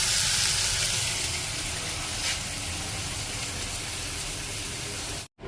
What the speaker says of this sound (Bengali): তো এখন আমি মশলাটা ভালোভাবে কষাই নেব।